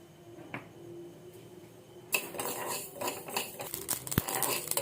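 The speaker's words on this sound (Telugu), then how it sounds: "ఆవాలు వేసుకుంటున్నాము." Mustard and fenugreek seeds stirred in a small pan for bitter gourd pickle: a quiet start, then a spoon scraping and clinking against metal with scattered ticks of popping seeds, close and irregular, no voices.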